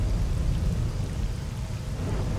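Thunderstorm rain in the video game S.T.A.L.K.E.R.: Call of Pripyat with the Misery mod, a continuous hissing downpour with a deep rumbling undertone, steady and enveloping with no voices.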